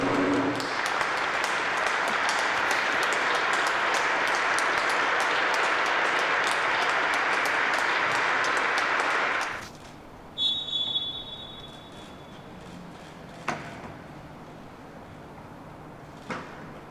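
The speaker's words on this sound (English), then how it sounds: "we'll take a moment of applause to thank NHS key workers at fixtures over the weekend" A stadium crowd at a football match applauds for NHS key workers before kick-off, a steady, distant roar of clapping that holds for several seconds, then cuts off to quiet with a few faint stray sounds.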